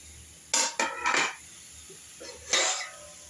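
A metal lid clatters onto a pot of mixed vegetables, cabbage and capsicum, being covered to steam, with a few sharp clanks close by followed by one more clink.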